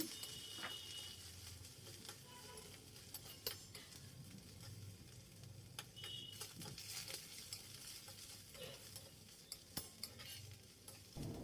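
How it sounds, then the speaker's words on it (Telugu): Green chillies and onions fry in oil for cabbage chutney with a soft, faint sizzle. Irregular stirring scrapes and light utensil clicks sound over it, quiet and close. "పచ్చిమిరపకాయలు ఇలా వేగుతున్నప్పుడు కట్ చేసి పెట్టుకున్న ఉల్లిపాయలు కూడా వేసుకొని వేయించుకోవాలి."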